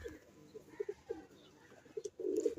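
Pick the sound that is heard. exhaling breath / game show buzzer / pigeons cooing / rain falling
pigeons cooing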